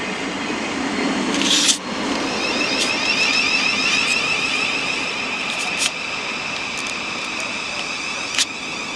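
Class 700 electric train passing through Redhill station, a broad steady rushing roar with high whining tones and a few sharp clanks, close and loud throughout.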